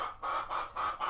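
Backyard hens cluck in a quick, rhythmic series of four short, close calls within about a second, with no voices.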